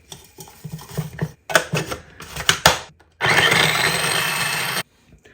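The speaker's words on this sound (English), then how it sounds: "Whack that in the chopper blender." A chopper blender whirs through ginger, garlic and fresh coriander, first in several short stuttering pulses, then one steady loud grinding run of about a second and a half before stopping.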